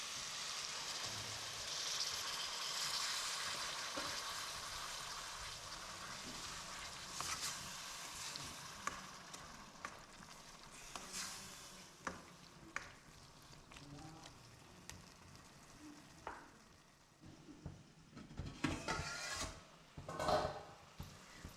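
Tomatoes and green chillies sauté in hot oil for a spicy crab roast, giving a steady close sizzle with scattered stirring clicks and scrapes that grow busier and louder toward the end.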